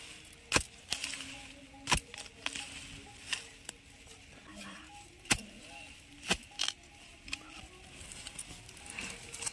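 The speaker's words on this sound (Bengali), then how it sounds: "তো আমি এখন কোদাল দিয়ে তুলে নেব।" A spade bites into garden soil to dig up home-grown sweet potatoes, each stroke landing as a sharp, close crunch or thud at uneven intervals of about a second, with faint rustling between strikes.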